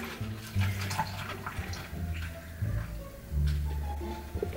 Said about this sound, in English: So I'm gonna pour this into here, and hopefully it should fill all the way to the top